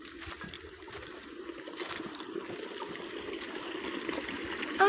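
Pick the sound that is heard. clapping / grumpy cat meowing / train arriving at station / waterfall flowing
waterfall flowing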